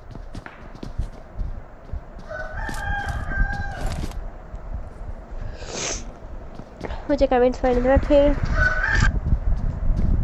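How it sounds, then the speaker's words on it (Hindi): A household rooster crows twice, a long call near the middle and another a few seconds later, fairly close, while someone talks during a PUBG Mobile live stream in Pakistan. "अभी मेरे मुर्गे की आवाज़ भी आती है।"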